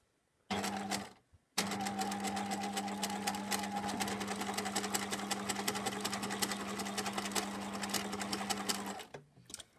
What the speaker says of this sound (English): I'm going to sew all the way around my pouch